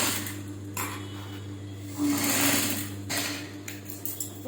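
A sewing machine stitching the neckline of a baby frock runs steadily and close, a loud continuous motorised whir with a low hum and slight shifts in pace, and no one speaking.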